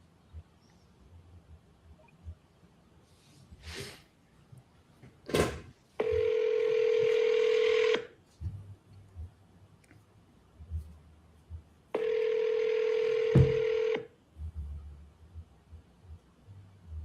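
A telephone call ringing out: two long, steady ringback tones, each about two seconds, separated by a pause, with brief clicks and faint background murmur between them.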